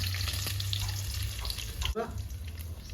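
Whole garlic cloves drop into hot mustard oil and fry with a steady, close sizzle, broken by a brief clatter partway through.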